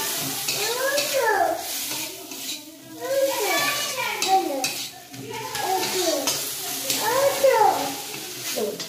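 Fried eggplant and fenugreek greens are stirred in a pan, with scraping and a soft sizzle running under a voice, as children's voices drift in the background.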